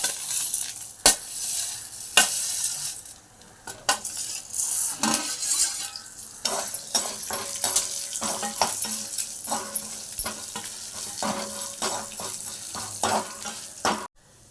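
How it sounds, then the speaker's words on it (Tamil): Coriander seeds and a pinch of asafoetida dry roasting in a pan for a Tamil kuzhambu, with steady stirring scrapes, clinks of a spoon against metal and light crackle, close and continuous with no talk. "இப்போ இதெல்லாம் நான் அப்படியே வறுக்க போகிறேன்."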